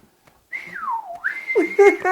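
A person whistles a sliding, wavering tune, dipping down then rising and holding a high note, with faint background sounds near the end.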